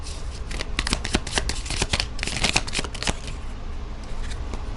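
Tarot cards are shuffled by hand in a close, loud burst of crisp riffling flutters and snaps lasting several seconds, with no speech over it.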